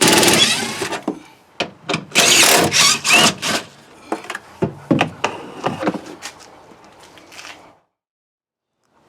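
A power tool with a T20 bit backing out the bolts around a rear subwoofer in a GMT800 Tahoe or Yukon. It gives short whirring bursts with rattling and clunks between them, close by, then falls silent near the end.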